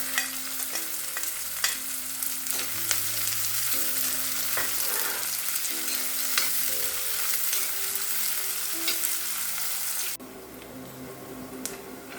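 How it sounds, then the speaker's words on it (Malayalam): Chopped onions, about one and a half cups, hitting hot oil with green chilies in a pan for chickpea masala, a loud steady sizzle with occasional stirring scrapes, close by, which drops to a quieter hiss near the end. "ഒന്നര കപ്പ് സവാള അരിഞ്ഞത് ചേർത്ത് കൊടുക്കാം"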